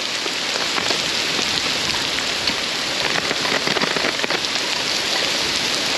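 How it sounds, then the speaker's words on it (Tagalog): Heavy rain pours steadily onto surfaces, a loud continuous hiss with scattered droplet patter and no voices. "Dito naman umulan ng malakas."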